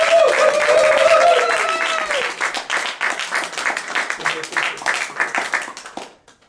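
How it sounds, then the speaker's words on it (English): A church congregation applauds at an Easter service, dense clapping loud at first, then thinning and fading out toward the end, with a few voices mixed in. "Let's give a nice round of applause for April Nielsen"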